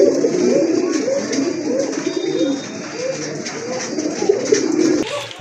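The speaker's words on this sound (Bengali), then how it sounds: "দেখেন দানব আকৃতির একটা কবুতর" Pigeons in a loft, including a large oversized Mundian male, coo continuously in overlapping low rolling calls, close and steady throughout with a brief scuffle near the end.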